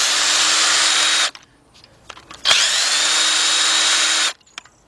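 A cordless impact gun drives engine bolts on a 2003 Jeep Liberty Sport 3.7, two loud, steady whirring bursts with a short pause of small clinks between them, close by.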